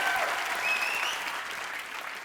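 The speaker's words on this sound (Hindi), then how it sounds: "जोरदार तालियां यार" Loud applause from a studio audience on a comedy talk show, sustained clapping that rolls on steadily for a couple of seconds and eases slightly toward the end.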